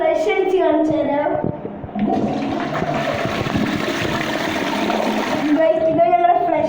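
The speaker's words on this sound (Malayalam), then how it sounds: "പിന്നെ നിങ്ങൾക്ക് ഫ്ലഷ് അടിച്ച് കാണിച്ചു തരാം" A toilet is flushed nearby, giving a loud rushing surge of water that runs for several seconds, with voices before and after.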